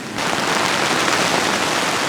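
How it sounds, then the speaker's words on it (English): Heavy rain pounds on a Hilleberg Unna tent during alpine camping, a dense, loud, steady hiss of drops that starts abruptly and continues without pause, heard alone. "Holy heck, it is bucketing down."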